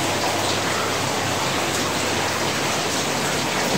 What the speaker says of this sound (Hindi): और ये देखो बारिश चल रहा है